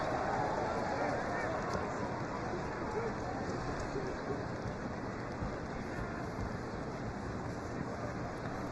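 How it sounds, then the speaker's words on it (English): Steady rain at Target Field during a Twins–Phillies baseball game, a dense continuous hiss with faint wind rumble that holds even throughout, with no clear voices. "Here it's not snowing, but it is raining."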